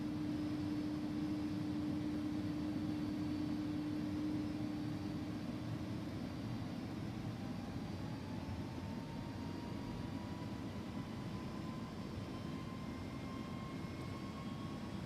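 Simulated Airbus A300-600R jet engines in X-Plane 11 spooling up toward takeoff power, a steady loud broadband roar with a tone rising slowly, continuous throughout with no talk.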